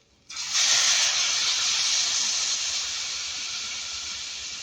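Thinned, whisked yogurt poured onto green chillies fried in gram flour in a hot pan, setting off a sudden loud hiss that holds steady as continuous sizzling and fades only slightly.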